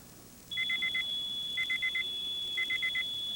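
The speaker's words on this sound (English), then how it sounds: "Oh, those damn smoke alarms." A smoke alarm chirps in quick bursts of four beeps, repeating three times over a steady high electronic tone, fairly loud in a quiet room.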